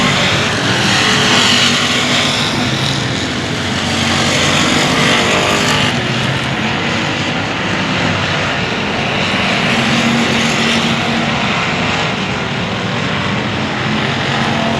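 Race cars at Cotton Bowl Speedway race in a dense, continuous roar of several engines close by, loud and unbroken throughout, with no talk audible over them.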